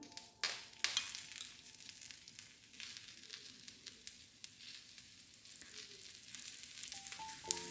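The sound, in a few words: tree colocasia patrode frying in coconut oil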